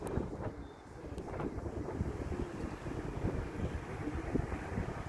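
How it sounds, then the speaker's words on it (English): Gusty, cold wind in Edinburgh, Scotland, buffeting the microphone with a low, constant rumble, rising and falling in strength throughout. "windy, by the way. Windy, windy, windy, cold."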